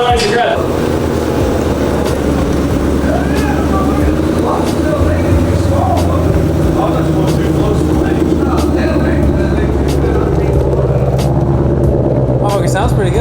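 A lifted Ford truck's engine, fitted with an aftermarket spool part marked for race use, runs at a steady, loud low rumble throughout, with people talking over it.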